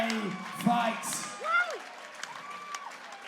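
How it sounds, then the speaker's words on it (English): Applause, cheering and whoops from the crowd at an amateur bantamweight MMA championship fight rise in a moderate swell behind an announcer's voice. "a round of applause for these two athletes"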